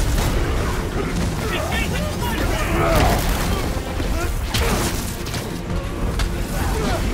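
An exploding engine block booms and crashes repeatedly in Spider-Man: Miles Morales, loud rumbling impacts and debris smashes layered over continuous voices talking.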